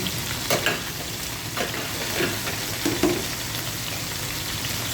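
Garlic frying in a pan for beef steak, a steady crackling sizzle up close with a few light scraping stirs breaking through.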